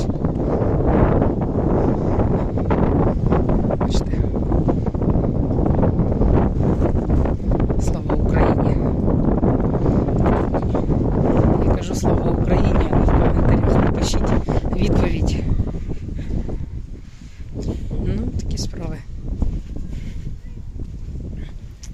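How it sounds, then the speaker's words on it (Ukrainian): Steady wind rushes and buffets the microphone throughout, loud and close, with brief crackles and rustles, easing slightly near the end. "Вітер."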